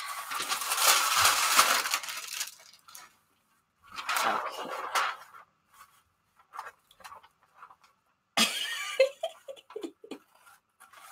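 Scissors cut through junk journal cover paper in several separate bursts, crisp rasping snips coming close and fairly loud, with short pauses of near silence between cuts.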